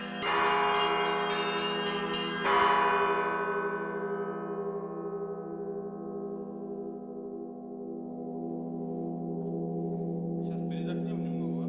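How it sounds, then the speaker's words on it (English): Church bells at the Solovki monastery ring with a loud metallic strike, a second strike about two seconds later, then a long, slowly fading resonant hum. "They conduct services and ring new sets of bells."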